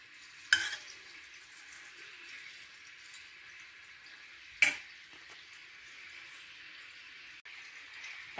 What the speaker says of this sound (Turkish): Tereyağım da bir taraftan kızarmaya devam ediyor.